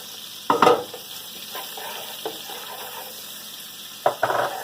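Garlic sizzles in a hot pan with a steady crackle, broken by a couple of louder bursts of stirring and spattering.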